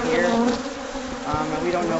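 Bees buzz around a large hive in San Diego, a dense, steady drone heard close by, with some faint background noise.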